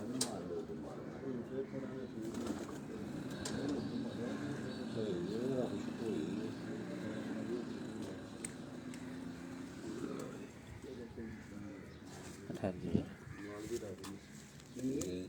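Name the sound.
pigeons cooing in a loft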